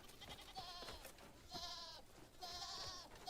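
A goat in the game Crimson Desert bleats three times in quick succession, faint and wavering over a busy background of ambient game noise.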